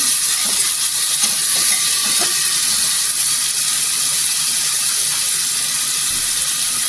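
Tomato frying in hot oil in a home kitchen, a steady loud sizzle and hiss running unbroken throughout.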